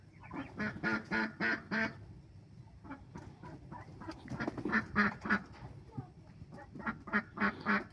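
Ducks in a farmyard poultry flock quack close by in quick rhythmic runs of calls, one burst at the start and another in the middle and end, with a low murmur of other birds between.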